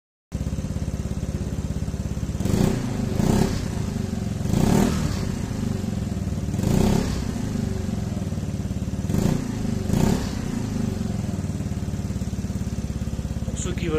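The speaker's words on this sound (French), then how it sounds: "je vais faire un aller-retour avec le scooter" A Sym Joyride Evo 125 scooter with a freshly plugged tyre rides back and forth, its engine a steady drone that swells in several passing surges as it nears and recedes, with no talking.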